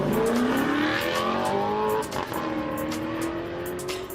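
A real-life Alfa Romeo engine revs up in rising sweeps, then eases and climbs again, loud and close, with no talk over it.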